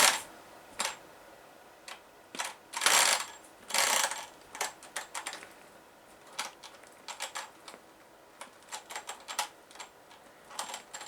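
RC car rear differential with missing gear teeth slipping, giving irregular bursts of sharp ratcheting clicks and clatter, some clustered and louder, others sparse, close and with no talk.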